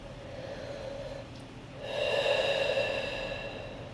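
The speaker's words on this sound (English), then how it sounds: "One more deep breath through the nose." Slow, deep breathing through the nose during a yoga sun salutation warm-up, one steady breath followed by a stronger, louder airy inhale or exhale, close up and with no talking.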